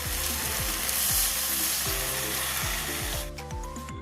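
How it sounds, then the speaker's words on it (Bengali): A pan of spice mix for taro greens with prawns sizzles loudly and steadily, with soft stirring knocks, then water is poured in near the end and the hiss drops and thins out. "ভালো করে কষা হয়ে গেছে এবার দিয়ে দিচ্ছি পরিমাণ মতন জল"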